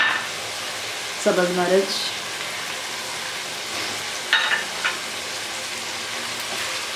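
Tomato, onion, ginger garlic paste and green chilli frying uncovered in a pan, giving a steady soft sizzle throughout with a few brief spoken words over it.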